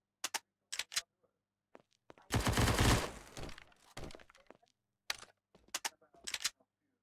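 Sniper rifle shots in a video game, a handful of sharp isolated cracks spaced irregularly, with one longer burst of louder noise in the middle; quiet between shots.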